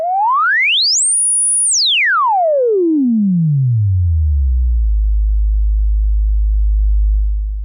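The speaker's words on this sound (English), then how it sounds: "most filters start to self-oscillate, which means they output their own sound even without any input." A self-oscillating Behringer 121 dual filter module outputs a loud, pure sine tone that sweeps quickly up to a high whistle, then glides smoothly down to a deep, steady low drone.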